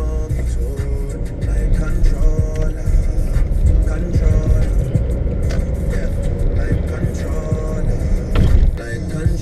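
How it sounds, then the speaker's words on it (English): A truck swings through a wide turn in city traffic, its heavy engine rumbling loud and close amid a continuous street drone with a few clanks and brief hisses. "this truck is going to turn, making a wide ass turn"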